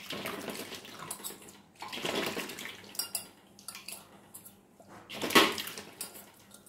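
Tap water runs and splashes over a brass (kansa) utensil being washed, in uneven bursts with pauses, clinks and drips between the gushes.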